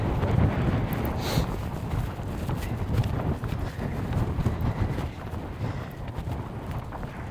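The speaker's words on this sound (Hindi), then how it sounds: "ये वो कितना विंडी है, इतना विंडी है भाई।" Strong, steady wind roars and buffets across a high mountain lookout point in the Alps, a continuous broadband rush with gusty swells, loud and close to the microphone throughout.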